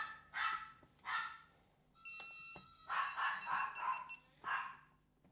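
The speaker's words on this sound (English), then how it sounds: "Can you hear the dog?" A dog barks outdoors in the distance in faint, repeated bursts, some clustered together, while someone works on assembling an RC airplane nearby with occasional sharp clicks.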